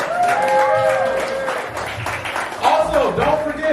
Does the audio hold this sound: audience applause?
yes